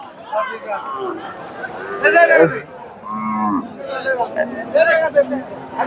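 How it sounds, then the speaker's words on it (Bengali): A cow and calf at a cattle market, with several loud nearby moos rising over crowd chatter as people talk close by. "এই যে গাভী বাচ্চাটা নিয়ে যাচ্ছে, এটা বিক্রি হয়ে গেল, নিয়ে যাচ্ছে"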